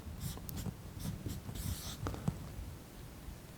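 Chalk or marker strokes on a board while someone writes out a Boolean logic expression, a run of short scratchy squeaks and taps in an irregular rhythm, close and fairly quiet against a soft room hum.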